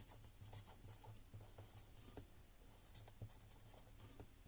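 Pen or pencil scratching steadily across paper while a math exercise solution is written out by hand, a close, quiet run of short strokes with no talking.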